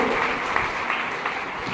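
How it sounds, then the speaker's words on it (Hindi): Applause breaks out at a school quiz competition on a girls' campus, a steady, dense wash of clapping from a crowd that holds evenly for nearly two seconds. "अगर मैं कहूं कि ये जवाब ठीक है तो जोरदार तालियां होगी"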